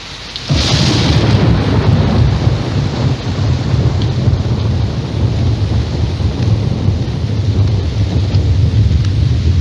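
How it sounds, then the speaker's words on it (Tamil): Heavy rain with thunder bursts in after a brief quiet moment, then roars steadily and loudly with deep rumbling underneath for the rest of the rain-soaked scene in a Tamil film. "கணேஷ், என்னடா மழையில நனைஞ்சிட்டு இருக்க?"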